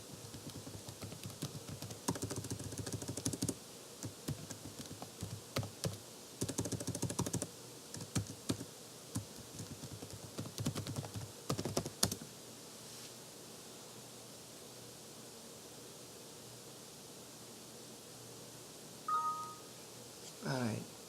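A password being typed on a computer keyboard, heard as bursts of close key clicks spread over the first half, then fading into quiet room noise with a brief sound near the end.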